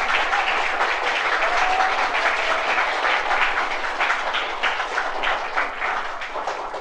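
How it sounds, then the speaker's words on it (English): A church congregation claps during a 1975 sermon, a dense and continuous round of hand clapping that holds strong for several seconds before easing slightly. "Come on, everybody, give God another hand clap,"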